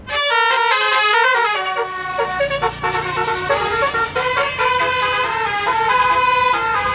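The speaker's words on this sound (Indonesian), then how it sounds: "Yuhu, keluarlah bus telolet." A toy Bus Telolet plays its musical telolet horn, a loud close melodic sequence of bright tonal honks stepping through a tune, continuous for several seconds with no talking.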